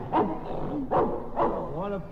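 A Russian wolfhound gives three short, evenly spaced barks, close and moderately loud, each followed by a brief whining tail.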